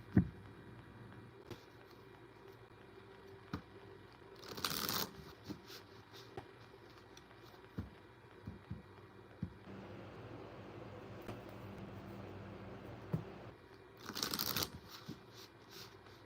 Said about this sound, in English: I'm just taking some time to shuffle the cards, get them all ready.